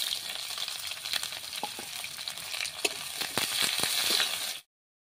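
Chopped onion and two bay leaves fry in mustard oil for a chicken curry, giving a dense, close sizzle with scattered crackles and stirring scrapes, ending abruptly; no one speaks.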